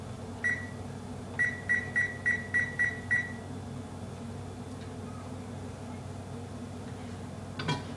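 A short run of high electronic beeps, one then six evenly spaced, from a kitchen timer set for boiling water, over a low room hum.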